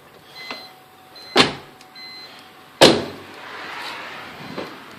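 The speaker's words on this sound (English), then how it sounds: "All the windows roll up and down." Inside a BMW E46 car, door and cabin sounds come with two sharp thumps, then a soft sustained whir from the power windows moving, close by and without talk.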